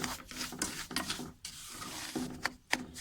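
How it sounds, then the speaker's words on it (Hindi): Semolina and cardamom powder being roasted and stirred in a pan, giving soft scraping and rasping strokes with faint sizzle, several stirring passes close up, no talking. "अब इसको हम भूनेंगे थोड़ा सा।"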